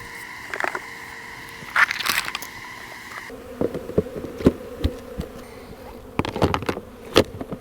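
Honey bees in a robbing mood buzz loudly and steadily up close, with crackling, rustling bursts and brief taps over the drone.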